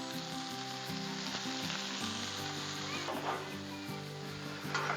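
Steady, loud sizzling of chicken bites pan frying in a little oil on a Blackstone griddle, a continuous crackling hiss with a low background hum and no talking.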